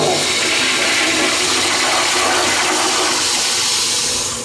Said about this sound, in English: here's another American Standard Afwall in the women's restroom